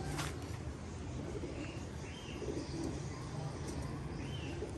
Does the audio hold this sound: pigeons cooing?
yes